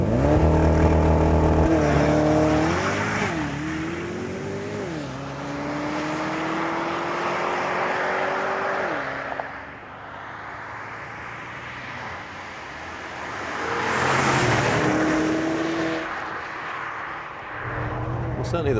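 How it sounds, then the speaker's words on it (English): A Porsche Panamera drives along the road, its engine note rising and falling through gear changes, with steady road and wind noise and a passing whoosh midway, heard from inside the car. "What I really want to know, though, is does it go down the road like a Porsche should?"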